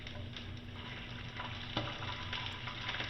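Cumin seeds and green chilies sizzle steadily in hot oil at the bottom of a pressure cooker, a constant crackling hiss at moderate volume with one faint clink partway through.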